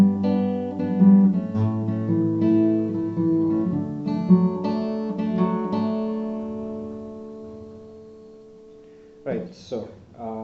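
Acoustic guitar picks out the verse of a song in C shapes, with ringing strummed and plucked chords that fade out before a few brief muffled sounds at the end.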